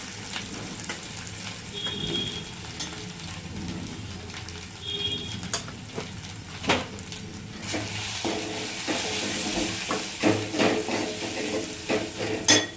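Curry leaves and turmeric sizzle in hot oil for bendakaya pulusu, a constant crackling fry with scattered spoon and pan clinks, louder and busier in the second half.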